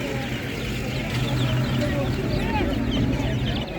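Chicks and fowl cluck and peep at a busy Ukrainian Saturday animal market, a steady chatter of small birds mixed with crowd murmur and people talking nearby.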